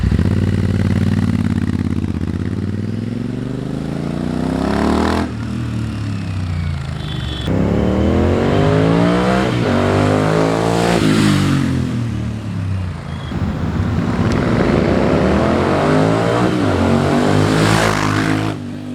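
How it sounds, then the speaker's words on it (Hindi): Royal Enfield Interceptor 650 fitted with a Powerage exhaust and dB killer sweeps past in a loud fly-by, the engine note rising and falling as the bike approaches, passes close and revs away, with repeated throttle swells. "सो गाइस, ये आवाज़ थी डीबी किलर के साथ।"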